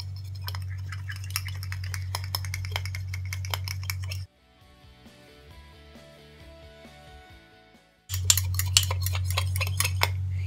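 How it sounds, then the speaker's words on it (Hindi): A utensil clinks and scrapes steadily against a bowl while egg yolk, olive oil and honey are stirred into a face mask, loud and close, pausing midway for a softer stretch before the rapid stirring resumes. "अंडे की जर्दी, ऑलिव ऑयल और शहद। इन सब चीजों को हम मिक्स करेंगे।"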